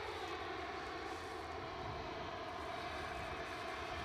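An airplane engine roars steadily at Edinburgh Airport, a continuous, fairly distant drone with no voices.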